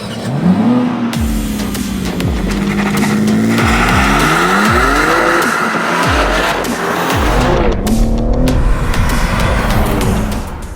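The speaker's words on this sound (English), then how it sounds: "So you join me in the BMW M3 competition. I'm just driving my first few laps in the car now" A 2021 BMW M3 Competition lapping a track, engine loud and close as it revs hard through repeated upshifts and downshifts, with tires squealing through the corners.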